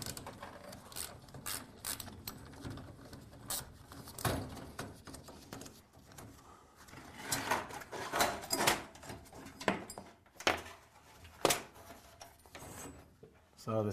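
Set screws being loosened on a garage door torsion spring cable drum: a run of ratcheting, clicking metal-tool sounds in irregular bursts, close and moderately loud, with occasional heavier clanks and no talk.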